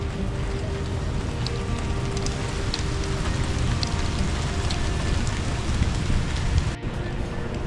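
Heavy rain pours onto a small canopy outside a Singapore mall, a dense, even hiss of drops that stays close and continuous, with one brief thump near the end.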